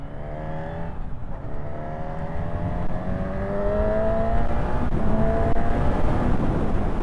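A 2025 Honda CB1000 Hornet motorcycle pulls hard through its gears on an open road, engine note climbing steadily and growing louder toward the end, with constant wind rush underneath.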